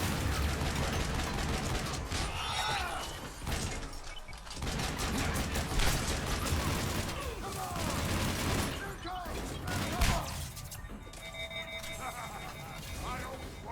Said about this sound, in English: You always wanted to have a firefight on the CIC of my ship?